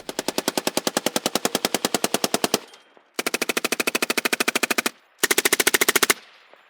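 Belt-fed machine gun firing three sustained automatic bursts outdoors in Montana, each a rapid, even stream of loud, sharp reports, separated by short pauses, with no talk.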